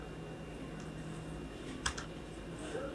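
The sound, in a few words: typing on a computer keyboard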